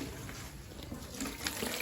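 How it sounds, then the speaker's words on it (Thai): Tap water running steadily into a bucket for growing red lotus, a soft continuous splashing stream heard up close at low volume. "แล้วเราก็เปิดน้ำใส่ในถัง"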